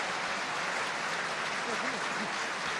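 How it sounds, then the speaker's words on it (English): Steady rugby stadium applause at a Premiership match between Northampton and Saracens as a replaced player leaves, a continuous wash of clapping from a large crowd with faint voices mixed in. "The applause for Curtis Langdon, who has been replaced by Craig Wright"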